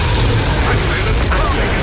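A Confringo blasting spell goes off in the video game Hogwarts Legacy, a loud, dense rumbling burst that fills the whole moment, with no clear separate hits.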